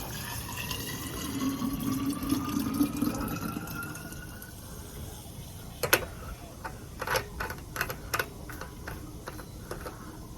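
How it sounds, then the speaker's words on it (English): Water pours into a La Pavoni lever espresso machine's reservoir with a steady rising fill tone, then gives way to scattered drips, clicks and clanks of parts being handled close by. "let's fill this baby back up"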